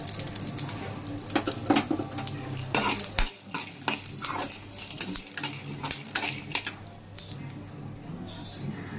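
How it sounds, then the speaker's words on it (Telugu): Peanuts and curry leaves sizzle in hot oil in a pan while being stirred for a spicy peanut and curry leaf powder, with scraping, clinking stirring sounds over a steady frying hiss, close and fairly loud. "పల్లీలు వేసి కొద్దిసేపు వేపుదాం"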